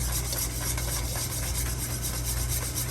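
Steady, close rasping and scraping of a whisk beating oil into egg yolk for mayonnaise, the strokes fast and even throughout.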